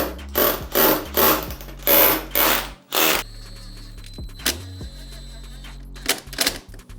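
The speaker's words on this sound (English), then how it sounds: "So we're going to just drill this through with an SDS drill." An SDS drill bores through a wooden door frame in a workshop build, with several loud, rattling hammer-action bursts in quick succession, then pauses with shorter bursts and a final spurt.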